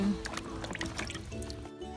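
Water runs and splashes over limes being washed, light uneven trickling and dripping close by with faint handling noises.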